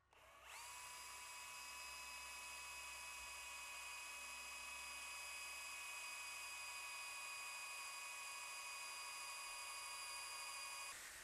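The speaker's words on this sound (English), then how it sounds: "All right, drilling is pretty straightforward." Power drill boring a hole for a Kitfox aircraft horizontal slider block, a steady high-pitched whine starting abruptly and holding constant for about eleven seconds, close and loud with no talking.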